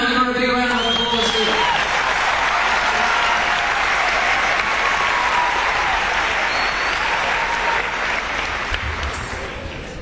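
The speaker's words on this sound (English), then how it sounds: "Give her a big round of applause." Loud, sustained applause from a crowd, with a voice speaking over the start before the clapping fills in and slowly tapers.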